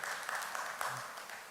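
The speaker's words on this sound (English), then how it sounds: "that's one person clapping." A lone person clapping at a digital transformation summit, a few sparse, uneven claps over a quiet room with faint background murmur.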